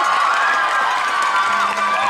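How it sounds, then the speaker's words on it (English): Crowd cheering and applauding at the close of a youth talent show, a loud, dense, continuous roar with shouting voices and no break in its level. "Give them all one more round of applause"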